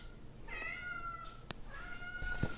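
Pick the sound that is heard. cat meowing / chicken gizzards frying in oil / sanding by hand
cat meowing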